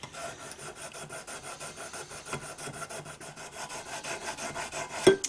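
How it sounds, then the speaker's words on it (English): Rhythmic rasping strokes of 500 grit wet-or-dry abrasive paper rubbed by hand along a steel knife blade held in a rotary vise, steady and close, with a sharper scrape near the end. "I've been working this blade with this 500 grit wet or dry."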